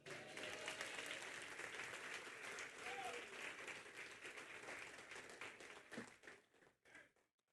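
A church congregation gives a long round of applause to the Lord, dense clapping with some voices mixed in, steady for several seconds before thinning out and fading to scattered claps at the end.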